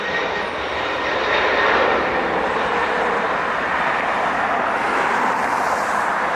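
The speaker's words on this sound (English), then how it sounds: "Yeah, early liftoff." Airliner taking off at LAX, a loud sustained roaring jet engine rush swelling slightly then holding steady, heard from nearby outdoors.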